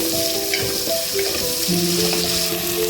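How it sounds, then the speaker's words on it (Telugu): Cumin, onions and green chilies fry in oil in a pan for dal tadka, a steady close sizzle with crackling and occasional stirring scrapes, and faint tonal hums running underneath. "ముందుగా జీలకర్ర వేసుకుందాం, తర్వాత ఉల్లిపాయలు పచ్చిమిరపకాయలు వేసుకుందాం. అలాగే ఫ్రై చేసుకోవాలి."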